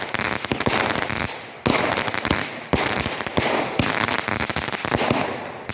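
A Fire Factory Brute Force firework cake, an older orange-label version, fires loud shots about once a second, each burst followed by a dense crackling tail, with the barrage continuing without pause.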